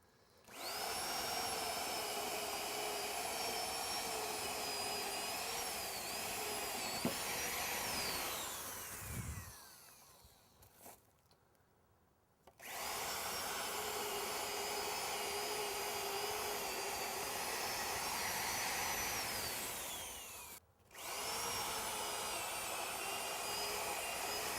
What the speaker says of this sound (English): And I'll just continue drilling.